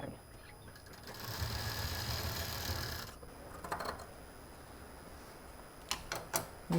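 A sewing machine stitches a fabric mask, running in a steady whirring burst for a couple of seconds before stopping, followed by quieter clicks and handling taps.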